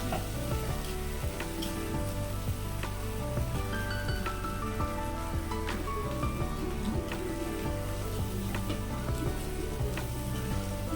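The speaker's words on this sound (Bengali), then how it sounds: "পোস্ত বাটাটা আমি এর মধ্যে ভালো করে দিয়ে এবার আমি কষিয়ে নিচ্ছি" Pointed gourd sautéing in poppy seed paste in a pan makes a continuous crackling sizzle with scattered pops and light stirring, steady and close, with no talking.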